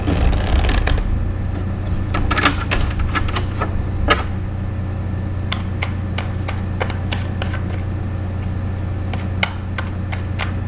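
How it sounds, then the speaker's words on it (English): Tarot cards shuffled by hand, with repeated riffling, flicking and dropping against a steady low hum and no talking. "I'm dropping cards here"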